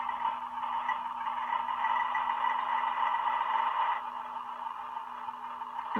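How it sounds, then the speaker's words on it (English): A model locomotive fitted with a Tsunami sound decoder crawls along slowly, giving a steady droning engine sound with a faint hum underneath. The tone shifts slightly near the end. "I think it's a Tsunami sound decoder."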